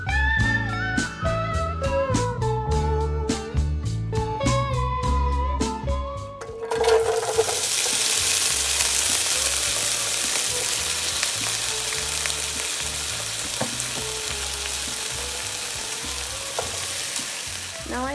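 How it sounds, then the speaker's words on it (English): Potatoes, cauliflower, onions and pepper hit hot olive oil in a pan over medium-high heat, bursting into a loud, steady sizzle after a few seconds of music, crackling on and on with no talking. "We're gonna start to heat our pan to like medium-high heat with some olive oil."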